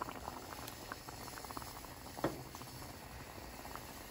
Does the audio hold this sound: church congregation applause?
no